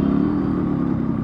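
Yamaha RX 100 two-stroke motorcycle engine running on the road: a steady, close, buzzing drone with rapid pulsing firing beats, loud and alone.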